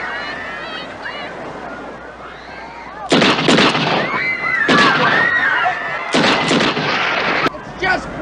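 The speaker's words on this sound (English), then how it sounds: "he begins to wildly blast the water with his super lethal cyanide tipped shark killing bullets" Rapid gunshots blast into the water in a Jaws 2 scene, fired from a rifle with cyanide-tipped shark bullets; loud cracking bursts arrive in three clusters after a quieter stretch where voices and water movement are heard.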